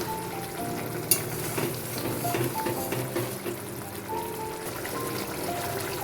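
Fried potatoes sizzle in hot oil as chili powder goes in, a dense continuous frying hiss with a sharp clink near the start and light stirring scrapes throughout; nobody talks.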